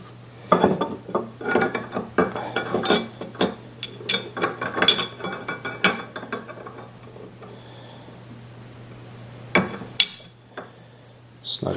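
Metallic clinks, clanks and scrapes come from snugging a Savage 110 rifle barrel into its action with a PTG action wrench, close and irregular with bursts of tool and part handling and quieter pauses.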